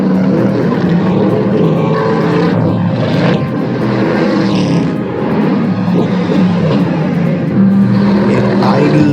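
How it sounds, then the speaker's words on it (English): Bugatti Bolide with its W16 engine running, a loud, steady low roar that holds unbroken and close throughout, with slight surges in intensity and no voices. "turn that engine on and it roars like a beast."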